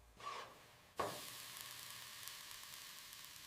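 Pancake batter with cauliflower hits a hot frying pan with a sharp burst of sizzling that settles into a steady, close frying hiss, with no voices.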